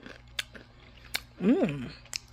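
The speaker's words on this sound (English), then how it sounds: "Y'all hear me crunching?" A person crunches on a snack while eating: a few sharp crisp crunches, faint and close, with a brief murmured voice in the middle.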